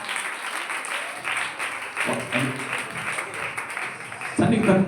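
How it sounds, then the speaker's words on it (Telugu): A church congregation at a Pentecostal prayer house Good Friday service claps together in dense, sustained applause that swells toward the end, with voices mixed in. "అందరికీ 100కి 100 మార్కులు వచ్చినట్టు చప్పట్లు కొట్టండి ఒకసారి"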